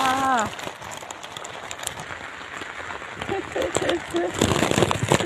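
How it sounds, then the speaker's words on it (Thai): Steady rain patters on a surface, with a voice speaking briefly at the start and faint voices and clatter mixed in. "ฝนตกจ้าฝนตก"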